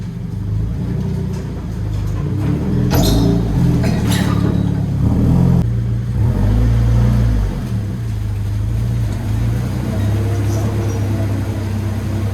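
A Subaru BRZ with a swapped 2.4 engine fires up and revs, giving a loud, close rumble with a couple of sharp blips before it settles into a steady, throaty idle.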